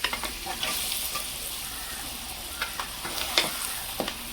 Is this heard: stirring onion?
yes